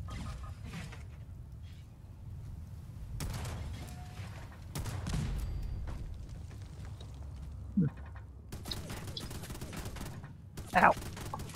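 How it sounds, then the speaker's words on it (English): Machine gun turret firing at the player in Fallout 76, with repeated bursts of gunfire spread across the clip and a voice talking in between. "Just a machine gun turret."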